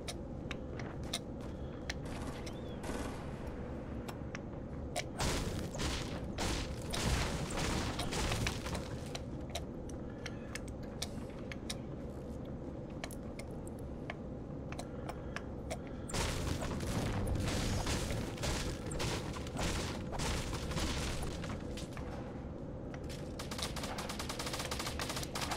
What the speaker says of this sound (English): I hear the gunfire, but I have no idea where it's coming from.